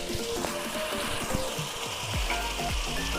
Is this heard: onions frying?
yes